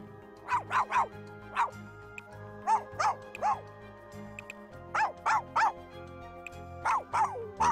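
Dog barking in the video game The Sims 4, repeated yappy barks in small bursts of two or three, fairly close, over quiet background music.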